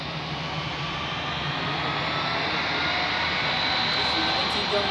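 An EasyJet Airbus A319 jet departs Zurich airport, a broad, steady engine roar heard from an observation deck, slowly swelling in loudness over several seconds.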